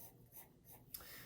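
A pencil scratches on paper while shading a portrait, three soft rhythmic strokes close up followed by a light tap, heard alone at low volume.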